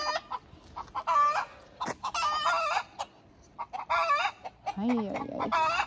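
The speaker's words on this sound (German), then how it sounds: "Ui, was ist denn hier im Hühnerstall los?" Chickens cluck excitedly in a henhouse in bursts of close, loud calls, and a rooster crows near the end; a voice briefly speaks among them.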